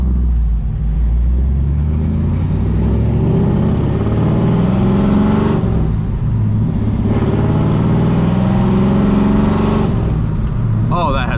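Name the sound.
1972 Dodge Demon 340 engine revving while driving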